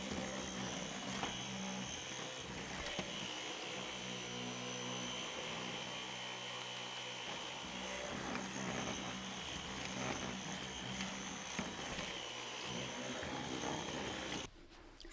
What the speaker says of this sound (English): I just did the quickest vacuum of all time.